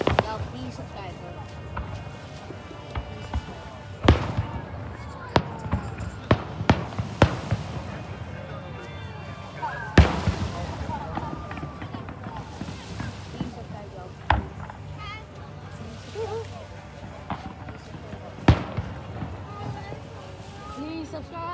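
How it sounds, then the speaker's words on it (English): Fireworks burst over Stanley Park's Second Beach in a run of sharp booms and cracks at irregular intervals, heard from a distance. Wind buffets the microphone, and people talk nearby. "Here's the fireworks."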